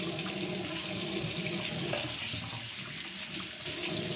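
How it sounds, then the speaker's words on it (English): Tap water runs steadily into a sink for several seconds as something is rinsed, a continuous close splashing rush with no one talking. "He's rinsing."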